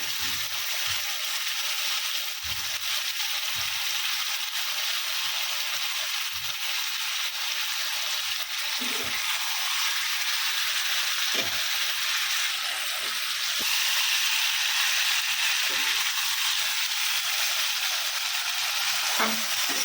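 Pabda fish fries in a pan with a steady, close sizzle, broken by occasional scraping knocks as it is stirred, with no voices.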